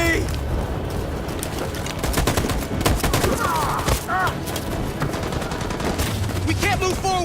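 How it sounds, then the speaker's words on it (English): Machine gun fire in the video game Detroit: Become Human crackles in rapid bursts, dense and close, while shouted voices carry through the din. "That machine gun is taking down everything that moves!"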